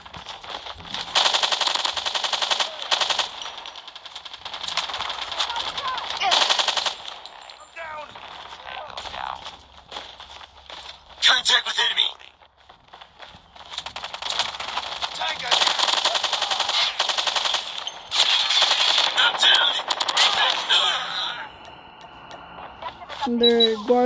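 FR.556 assault rifle fire in Call of Duty Mobile, with repeated bursts of rapid automatic gunfire filling most of the stretch, broken by short pauses and clicks of game sounds.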